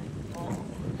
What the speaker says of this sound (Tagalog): Ang lakas po ng hangin.